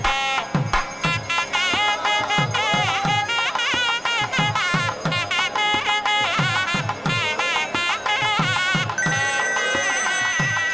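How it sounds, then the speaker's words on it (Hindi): A bright, melodic ringtone plays with a steady, repeating electronic pattern over a beat, loud and continuous throughout. "देखो तुम्हारे पापा का फोन आ रहा है।"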